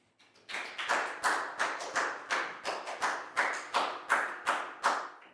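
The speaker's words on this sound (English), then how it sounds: "High five and a big round of applause for Preu, please, guys." A small group in a classroom claps in a steady, rhythmic beat, about a dozen sharp rounds of hand claps, fairly close and with no voices.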